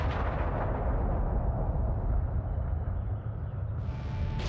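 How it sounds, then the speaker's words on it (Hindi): A World War II V-1 rocket hits the ground in a loud, sustained explosion, with a heavy rumbling roar that holds steady for several seconds before fading a little. "इंजन बंद होने के बाद ये रॉकेट एक जोरदार धमाके के साथ जमीन से टकरा जाता था।"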